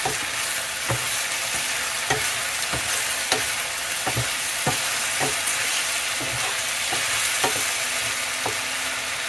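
Balbacua ingredients seasoned with salt are stirred in a hot pan: a continuous frying sizzle runs throughout, punctuated by regular soft knocks of the spoon against the pot, close by and steady.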